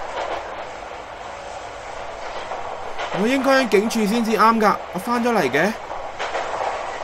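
A steady rumbling train ambience at a train station in the video game Strange Syndrome plays throughout at moderate level, while someone talks over it in the middle section.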